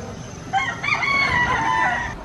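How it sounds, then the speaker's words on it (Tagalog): A rooster crows once, loud and close, in a drawn-out rising and falling call, with a low murmur of other chickens behind it. "Ang daming manok."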